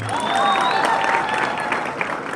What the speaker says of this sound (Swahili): piga makofi tafadhali.